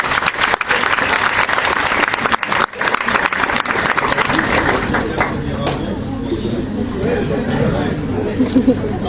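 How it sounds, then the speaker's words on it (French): Applause from a lecture audience in France, dense clapping mixed with crowd chatter that thins in the second half as murmuring voices take over. "Je pense qu'on peut applaudir nos intervenants d'être venus"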